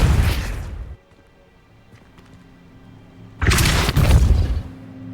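In the video game Hogwarts Legacy, the Depulso spell lands as two heavy booming impacts with deep thuds and bursts, a loud blast at the start and another about three seconds later, separated by quiet.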